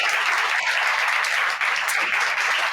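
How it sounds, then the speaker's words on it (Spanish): An audience at a talk applauds steadily, a dense, even wash of clapping that holds at the same loudness throughout with no voices on top. "Un aplauso."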